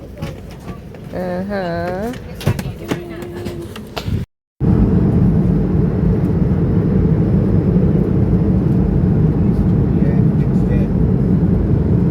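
Steady loud cabin drone of a passenger plane in flight, a constant low roar running throughout, with a person talking briefly over it at the start.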